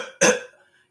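A person imitates a woman's cough with one short, sharp cough that fades quickly in a quiet room.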